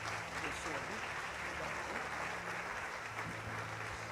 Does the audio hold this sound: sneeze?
no